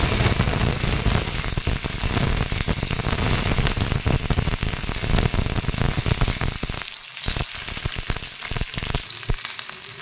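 Green chillies sizzle steadily in hot oil, a loud, continuous crackling fry with dense popping throughout and only slight dips in intensity.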